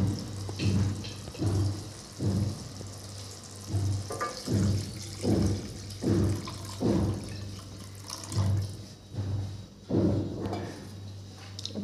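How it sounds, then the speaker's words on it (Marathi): Water is poured into a pan of cooked onions and tomatoes while making street-style masala Maggi, coming as repeated short splashing bursts in an uneven rhythm over a low steady hum, close and fairly soft. "आता त्याच्यात पाणी टाकून घेते मी मॅगीसाठी"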